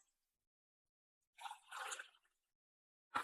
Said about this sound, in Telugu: దీంట్లో నేను ఇంకొక ఎక్స్‌ట్రా ఒక గ్లాస్ ఎక్కువ వాటర్ పోస్తున్నా